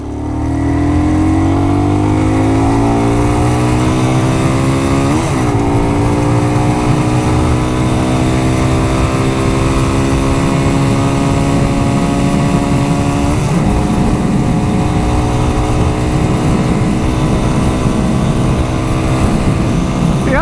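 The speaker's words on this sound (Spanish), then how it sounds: "Que vamos a darle una aceleración con todo" Unico BK 200 supermotard, a 200 cc single, revved at full throttle, its loud close engine note climbing steadily in pitch through the gears with two brief dips at shifts, sustained for about twenty seconds without talk.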